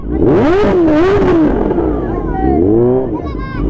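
A Kawasaki Ninja H2 motorcycle engine revs hard to the limit, its pitch sweeping up and down in loud, repeated surges close by, at a wedding.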